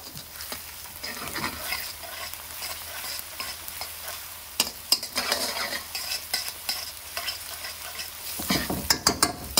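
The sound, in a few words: stirring ginger into keema curry in pan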